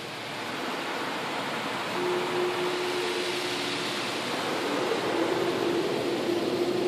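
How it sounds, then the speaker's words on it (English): Car wash dryer blowers roar as a car passes through in Lake Forest, a broad, steady rushing of air that builds slightly over several seconds, with a faint tone partway through. "now we're going through the dryer"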